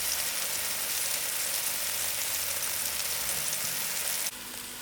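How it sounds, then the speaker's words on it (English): Sliced mushrooms browning in about a teaspoon of olive oil in a pan, a steady, bright sizzle holding level for several seconds before dropping slightly at the end, with no talking. "in with about a teaspoon of olive oil, and then in with the mushrooms, and then we're going to brown those out"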